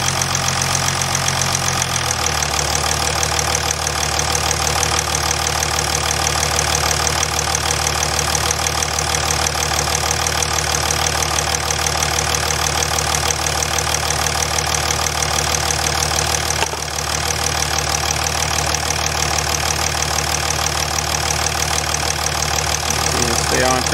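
A 2008.5 Jeep Grand Cherokee CRD diesel settles into a steady idle right after start-up, a close, constant clattering knock with a lower rumble, running alone and uninterrupted for over twenty seconds.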